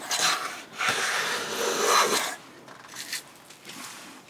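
A wooden hand plane shaves across a wood board in several rasping strokes, each a close, breathy scrape, with quieter strokes trailing off toward the end.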